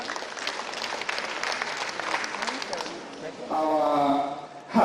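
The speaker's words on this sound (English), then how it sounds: "A round of applause for them." Seminar attendees give a round of applause, a steady, fairly close crowd clapping that swells briefly before trailing off, with voices audible beneath and after it.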